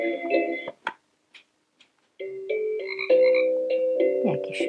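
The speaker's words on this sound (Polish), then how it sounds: "Jakiś żabi rechot." Frog croaking from the nature-sounds mode of a baby mobile projector: sparse croaks and ticks at first, then a denser, louder run of rhythmic croaks, played near with no talk.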